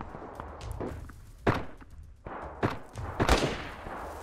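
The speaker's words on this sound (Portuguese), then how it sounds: "Cara, um tiro de M200, mano." M200 sniper rifle fire in the video game DayZ: several sharp, booming shots at irregular intervals, some fairly close and others more distant, with faint thuds between them.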